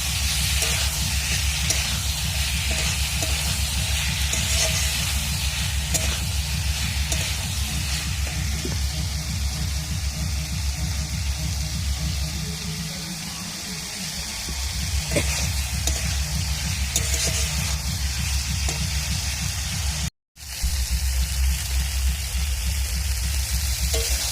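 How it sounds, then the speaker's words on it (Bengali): Spiced rui fish with cauliflower, potato and peas sautéing in a pan with salt and turmeric, a steady close sizzle that runs almost without pause, with faint scraping and stirring layered over it. "এবার ভালো করে কষতে নেবো সব একসাথে।"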